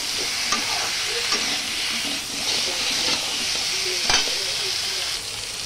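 Fish and mixed vegetables fry together in a pan for a curry, giving a steady broadband sizzle and hiss with a few sharp clinks and stirring scrapes along the way.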